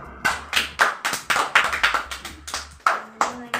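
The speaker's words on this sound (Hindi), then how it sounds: "तो टीम ए के लिए तालियां बजाइए।" Children clap for the winning team at a quiz competition, a run of sharp, separate claps in an uneven rhythm, close and fairly loud, with a short gap near the end.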